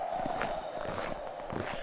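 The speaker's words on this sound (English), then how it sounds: "you'll notice there the footstep sounds changed as well" Footsteps cross an outdoor area in a Unity video game, a quick, even series of soft steps over a steady ambient hum, fairly faint.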